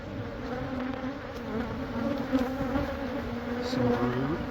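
Honey bees buzz steadily and close during removal of a huge hive at a Catholic church, a dense, continuous drone with slight swells in loudness and a few louder passes near the end.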